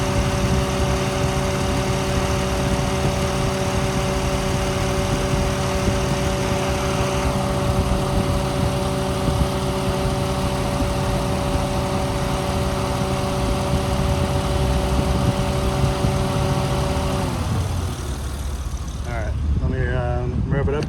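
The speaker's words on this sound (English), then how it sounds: "I'm going to rev it up and you can hear the cold air intake sucking the air when you rev it up" A 2008 Acura TL Type S engine fitted with a cold air intake runs with a steady, close droning hum for a long stretch, then its pitch shifts and wavers near the end.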